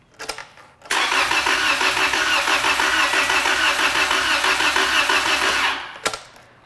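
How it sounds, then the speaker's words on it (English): A car engine on an engine diagnosis trainer cranks continuously for about five seconds with a fast, rhythmic churning, loud and close, then stops without catching. "we're just gonna listen to this thing as it's cranking"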